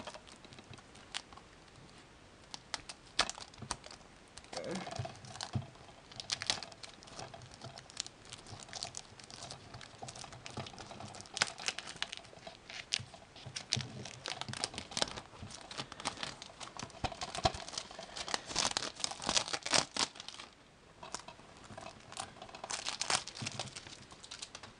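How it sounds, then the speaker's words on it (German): A Predator Ultimate Hunter Edition Blu-ray collector's box being unpacked, with quiet, close crinkling of plastic wrap, tearing and rustling in irregular bursts throughout, and no voices. "So, dann werde ich das gute Stück mal auspacken."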